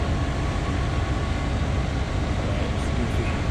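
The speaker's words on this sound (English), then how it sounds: "It's goofy, but this is the train we gotta take." A train running toward Annai Station rumbles steadily and loudly at close range, with continuous rolling wheel and car noise filling the whole stretch.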